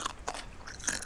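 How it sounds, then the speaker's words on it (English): Someone eating near an open microphone during a livestream, heard as a few close, brief crunchy bites and munches that come in short bursts over about a second, with no talking. "we can all hear you eat"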